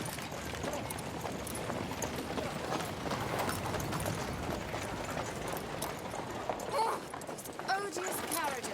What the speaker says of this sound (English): Odious carriages, I detest them.